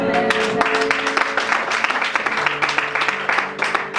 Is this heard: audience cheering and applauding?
yes